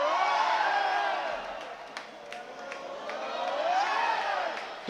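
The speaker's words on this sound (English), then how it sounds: "The fans and the players are doing a wave, cheering." Arena crowd at an underwater rugby world championship game in Graz roaring and cheering steadily while doing a wave, loud and continuous with swelling peaks and scattered whoops.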